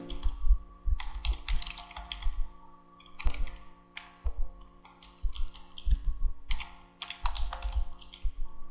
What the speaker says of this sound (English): And then we type in the real mail.